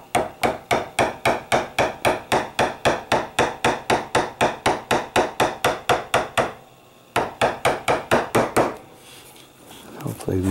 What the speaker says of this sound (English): Chisel in the scribe line.